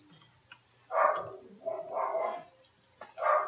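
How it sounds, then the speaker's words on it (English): A dog barks in short bursts, three or four sharp woofs spaced over a few seconds against a quiet background, moderately close. "I'm really sorry about the dog barking"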